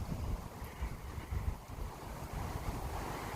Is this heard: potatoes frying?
no